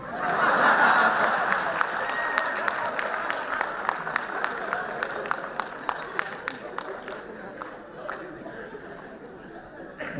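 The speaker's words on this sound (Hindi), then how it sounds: "जिस हिसाब से इधर तालियां बज रही" Applause from a comedy show audience, steady and sustained for about ten seconds, with scattered chuckles mixed into the crowd's clapping.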